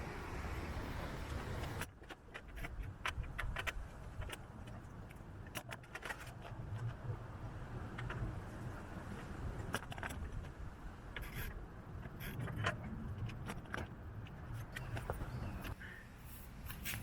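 A BH folding bike is handled and unfolded, giving close metallic clanks, scrapes and rattles in irregular bursts with a brief wrench-like clicking, over steady background rumble.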